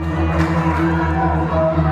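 Wrestling crowd at a UKW Friday Night Showdown event cheering for Sheep Maktoum, a loud, dense wash of voices sustained without pause for the whole moment.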